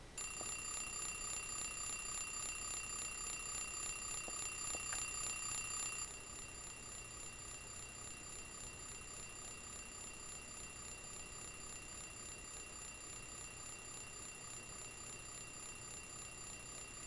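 A phone rings in the video game Silent Hill 3, a steady electronic tone that holds with a sharp bell-like shimmer for the first six seconds, then carries on more faintly and evenly, with no talking.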